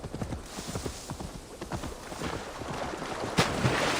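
Horse hooves clip-clop at a steady trot in Assassin's Creed Valhalla, fairly quiet under a continuous wash of game ambience, with a sharp bang near the end.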